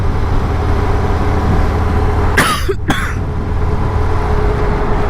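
A single sharp cough, a quick double burst, rises over the constant low rumble of a running engine nearby.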